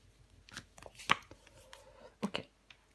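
A tarot card is turned over and laid down on a table: a few close, sharp taps and soft slides, quiet between the clicks.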